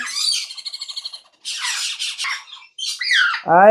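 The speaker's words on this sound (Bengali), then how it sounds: "এগুলো হচ্ছে আফ্রিকান গ্রে প্যারট প্রজাতির পাখি" African grey parrots squawk and screech up close, loud bursts with rapid chattering notes, a harsh squeal and a rising whistled call.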